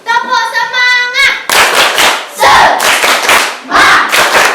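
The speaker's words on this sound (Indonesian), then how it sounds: "kita tepuk semangat dulu ya" A classroom of schoolchildren performs a rhythmic spirit clap, bursts of loud unison clapping and shouting in several patterned groups, after a teacher's sung lead-in.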